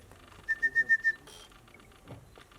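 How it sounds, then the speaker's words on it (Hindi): Someone in the audience at a film success party with Bollywood celebrities whistles five short, sharp blasts in a quick even rhythm, followed by a burst of crowd noise. "सीटी बजाने में बिजी है।"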